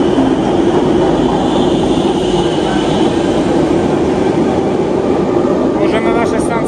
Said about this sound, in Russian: поезд подъехал.